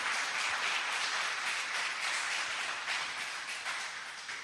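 A church congregation applauds during a Methodist service, a soft, even wash of clapping heard at a distance, faint and steady for a few seconds with no voices over it.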